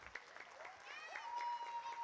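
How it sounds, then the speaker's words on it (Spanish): Faint audience applause at an annual gala awards ceremony, soft scattered clapping from a distance with a thin whistle-like tone rising through it. "Otro aplauso, por favor."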